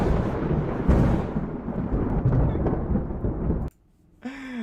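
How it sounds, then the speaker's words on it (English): A thunder sound effect played during a theatrical staging of Shakespeare's Julius Caesar: a loud rolling crackling rumble for several seconds that cuts off abruptly, followed by a short tonal electronic sound. "So here's some thunder."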